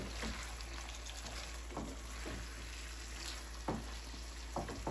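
Chicken and spinach cook in a pan, a low steady sizzle with a few soft scraping stirs breaking through at intervals, close and fairly quiet.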